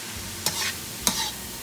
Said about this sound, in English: I'm just frying this up really well first, trying to get the pork to brown a little bit